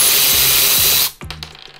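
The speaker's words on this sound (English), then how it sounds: "use the ratchet back to run it right back off" A Milwaukee M12 Fuel 3/8-inch high speed ratchet whirs loudly at close range for about a second, then cuts off, leaving a few short clicks and rattles.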